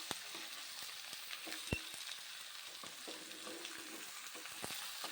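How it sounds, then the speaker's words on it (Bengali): Chicken skin, feet, wings and tail scraps fry in hot oil for a chicken skin curry, giving a steady close sizzle broken by scattered sharp clicks and spoon knocks, with no talking. "এই পর্যায়ে আমি পরিষ্কার করে রাখা ছাঁটগুলো দিয়ে দিচ্ছি এই ছাঁটের মধ্যে আছে পা ডানা লেজ আর চামড়াগুলো"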